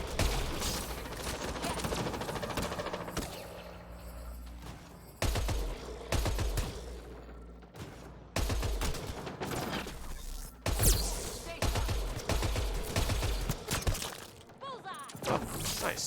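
Rapid bursts of gunfire and sharp impacts from a firefight in the sci-fi shooter Mass Effect Andromeda at a Kett base on Eos, loud and sustained with brief gaps, under game music and effects.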